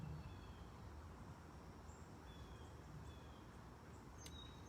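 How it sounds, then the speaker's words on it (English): Faint, scattered bird chirps and calls drift over a steady, low outdoor hum, distant and soft, with no one talking. "Sounds of the birds."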